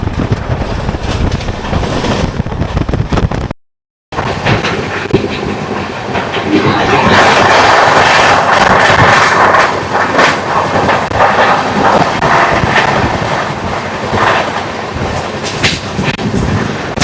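The 22974 Puri–Gandhidham SF Express pulls out of Balugaon station, its wheels clattering loudly and steadily over rail joints with a rumbling carriage roar that swells after a brief silent gap and carries on throughout.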